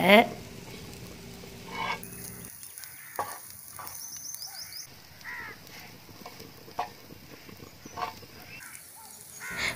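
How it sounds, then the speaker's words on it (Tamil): Onions or similar ingredients sautéing until golden in a pan for egg omelet adai, a steady soft sizzle with stirring scrapes running throughout, close by, with no talking. "நல்லா பொன்னிறமாக வதக்குறேன்."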